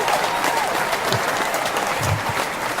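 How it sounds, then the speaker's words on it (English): A studio audience on a sports talk show gives a round of applause, a dense, even wash of clapping throughout, with a faint voice briefly cutting through. "You like the big round of applause you Yeah. got?"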